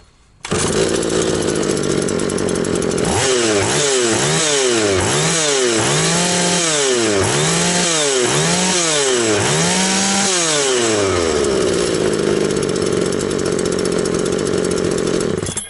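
An Oleo-Mac GS35c chainsaw runs close and loud, idling steadily at low revs, then blips its throttle in a regular series of short rising and falling revs before settling back to a low idle.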